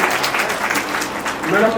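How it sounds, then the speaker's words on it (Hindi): Schoolchildren clap hard at a girls' senior secondary school results ceremony in Firozpur Jhirka, a steady wash of applause with talking mixed in. "ताली बजाओ बच्चे जोर से।"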